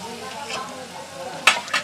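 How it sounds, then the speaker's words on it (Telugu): Turmeric fried in a pan for a country chicken curry gives a moderate sizzle with stirring, then two sharp metallic clinks of a utensil against the pan near the end. "పసుపు వేసుకొని ఫ్రై చేసుకున్నాను అన్నమాట."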